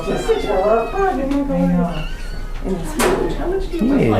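Several cats meow at an animal shelter, with repeated close calls of varied pitch. People talk nearby over the meowing.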